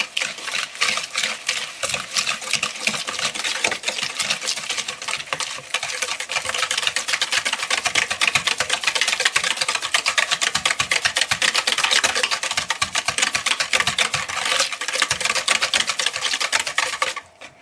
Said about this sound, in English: And then I'm going to add the sugars to that butter. And I'm going to whisk that.